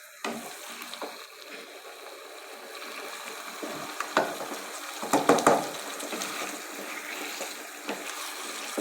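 Tinday fry with tomato paste in a pan over medium-high flame, giving a soft, steady sizzle and bubbling, broken by a few louder sputters and scrapes near the middle.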